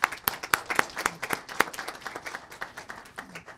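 A small group at a city council meeting applauds No Limits Dance Academy, a handful of distinct, sharp claps close by that start strong and gradually thin out and soften over a few seconds.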